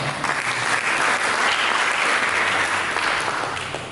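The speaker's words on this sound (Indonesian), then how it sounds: "Berikan tepuk tangan." A church congregation applauds during a sermon, with dense, sustained clapping from many hands and a steady roar that eases slightly toward the end.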